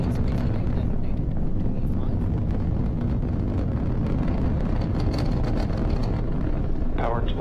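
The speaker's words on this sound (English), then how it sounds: "We have successful liftoff of the Falcon 9 carrying Spaceplane designated" A SpaceX Falcon 9 lifts off carrying the US Air Force X-37B spaceplane, a continuous deep roar and crackle heard from a distance that fills the whole stretch and stays loud and steady, with wind buffeting the microphone.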